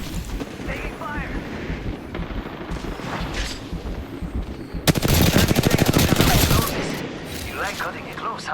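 Automatic weapons fire in a close fight in the video game Apex Legends, a sustained rapid burst of loud shots in the middle of the clip. Voices and game sounds run around the burst.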